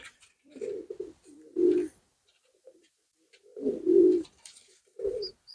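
A wood pigeon coos in short, soft, low phrases with quiet pauses between, close and alone.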